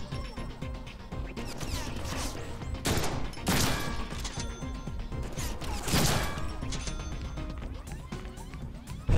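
Gunfire in the Deadpool video game, continuous rattling shots with heavy crashing impacts and a couple of louder blasts, set over a busy game soundtrack.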